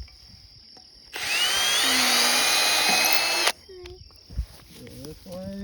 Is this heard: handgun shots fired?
no